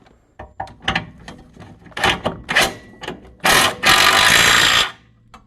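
A wrench ratchets and tightens a bolt on the rear brake of a 2008 VW Rabbit, close metallic clicks in uneven bursts building to two longer, louder grinding strokes.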